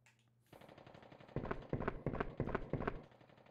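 Gunfire in the video game Resident Evil Survivor plays as a fast series of loud, punchy shots, about six or seven in quick rhythm after a brief quiet start.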